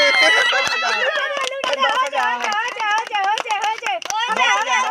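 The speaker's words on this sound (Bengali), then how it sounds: "হাততালি দাও হাততালি দাও" Family members clap their hands during an indoor money challenge game, a rhythmic pattering of claps mixed under loud, excited talking and chanting voices throughout.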